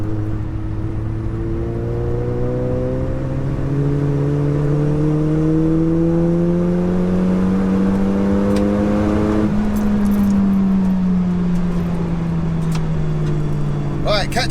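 A 607bhp SEAT Leon Cupra on a race track, its engine droning loud and steady as it pulls through fourth gear, pitch climbing then dipping slightly near the end, alone without talk.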